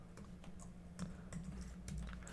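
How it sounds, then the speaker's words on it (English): Code being typed on a computer keyboard: faint, irregular key taps at close range over a low constant electrical hum, with no voices. "we just type data file, right?"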